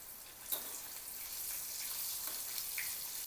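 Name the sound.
puran dhonde sweet dumplings frying in ghee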